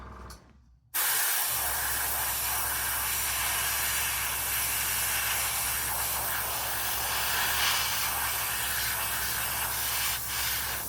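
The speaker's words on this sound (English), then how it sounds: "how I've thinned it, it's spraying beautifully" An airbrush sprays thinned MRP Aqua model paint. After a brief near-silent start, a loud, close, steady hiss begins abruptly and continues unbroken for about ten seconds.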